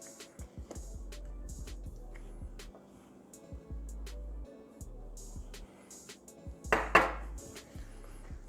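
A spatula scrapes the sides of a mixing bowl while folding banana nut muffin batter, giving repeated soft scrapes and knocks at close range with brief low thuds, without talk.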